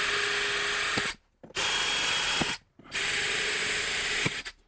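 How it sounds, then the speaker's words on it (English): An electric drill whines loudly through an aluminum pan in three bursts, each ending abruptly with a short pause between them. "I'll use the tap drill size to drill through these holes right through the aluminum pan"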